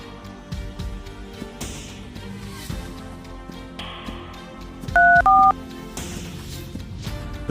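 A short run of telephone keypad dialing tones, a few distinct beeps in quick succession, heard over a background of low ambient noise and music during a nighttime roadside scene.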